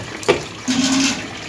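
Water pouring into a semi-automatic washing machine, a steady broadband rush with a brief splash near the start and a faint hum under the flow, nearby and moderately loud, with no voices.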